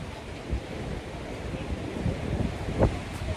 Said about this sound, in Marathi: आपण जबरदस्त समुद्र आहे इथं.